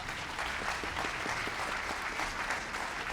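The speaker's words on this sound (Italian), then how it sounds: "Applauso." Applause from a concert audience at a gala concert of an international piano competition in Friuli Venezia Giulia, steady dense clapping filling the hall for about three seconds with no voices over it.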